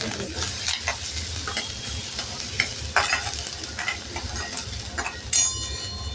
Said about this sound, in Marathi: कांदा आपण परतून घेऊ.